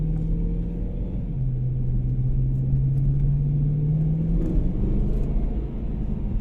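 Deep, steady exhaust rumble from a 1992 BMW M3 engine in sport mode, a low droning tone that rises slightly and holds, close and loud throughout.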